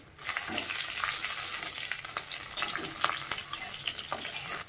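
Dried red chilli, garlic, black cumin and green chilli fry in hot oil in a kadai, a dense close sizzle with sharp crackles and pops that swell as each ingredient lands.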